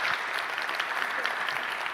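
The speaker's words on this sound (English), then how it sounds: "if you could please give them a round of applause" Steady audience applause for a conference panel, dense clapping from a seated crowd that holds at an even level throughout without a break.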